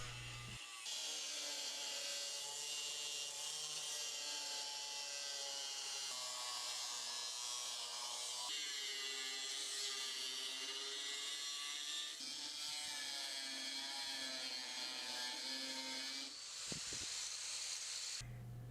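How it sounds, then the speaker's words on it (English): Angle grinder roughing out the profile of a steel knife blank, a steady loud hissing grind that runs continuously with small shifts in pitch as the disc bites. "Now I'll use an angle grinder to rough out the profile of the knife."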